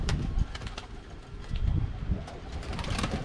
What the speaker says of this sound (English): So there go the birds.